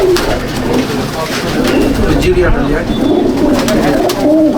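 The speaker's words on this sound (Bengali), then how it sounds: "চলুন তাহলে পায়রা দেখি।" Pigeons in a home loft at Jangipur, Murshidabad, coo steadily and close by with overlapping, throaty calls, while someone talks over them.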